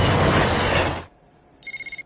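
A telephone rings with a quick pulsing electronic tone of about six short bursts, coming alone after a burst of broad noise fades, loud and close in a comedy film scene.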